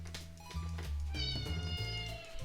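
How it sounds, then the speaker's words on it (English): A cat meows insistently up close, several long, wavering cries in a row over faint kitchen background noise. "and a noisy kitty."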